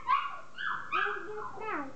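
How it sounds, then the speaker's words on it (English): A 6.5-week-old puppy gives a few high, whiny yips and whimpers close up, rising and falling over about two seconds. "What a cute puppy."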